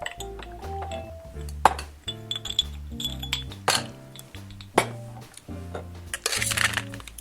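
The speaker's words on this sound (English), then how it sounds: "Now, we're going to add the ice and give it a wet shake." Ice cubes dropped into a glass for a cocktail wet shake, a run of bright clinks and pings at an uneven rhythm, close and fairly loud, with faint liquid sounds between hits.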